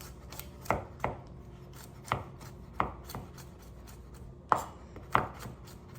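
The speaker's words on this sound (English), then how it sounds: "I'm just gonna chop this up real small" A knife chops garlic cloves for shrimp scampi on a cutting board, delivering several distinct close thuds at an uneven pace with quiet gaps between strikes.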